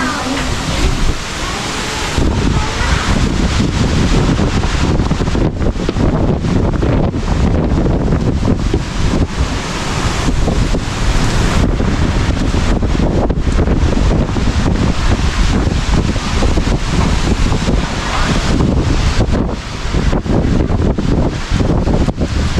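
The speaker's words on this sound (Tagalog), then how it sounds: "malakas yung hangin." Strong typhoon wind roars across a storm-hit coastline, buffeting the microphone in heavy continuous gusts, with surf and a few voices faintly under the blustering noise throughout.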